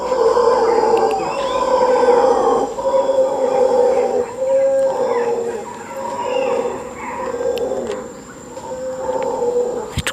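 Howler monkeys howl from the forest in Costa Rica, a chorus of deep, throaty roars rising and falling in long repeated waves at a moderate distance, with faint insect buzz beneath.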